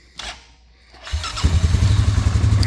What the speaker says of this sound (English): so this one, it does start up.